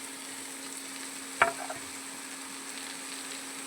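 Mixed vegetables frying in a pan, a steady, soft sizzle with one sharp clack of a spatula against the pan partway through.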